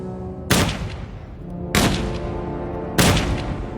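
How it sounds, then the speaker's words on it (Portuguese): Three loud, sharp gunshots ring out at steady intervals, each a sudden crack with a short echoing decay, as a man is shot several times. "Então atiraram nele 3 vezes no peito e 1 vez na cabeça"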